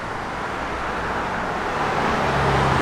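A 1966 Pontiac GTO with its original Powerglide automatic cruises along, heard as a steady, moderately loud road and engine rumble that swells slightly toward the end.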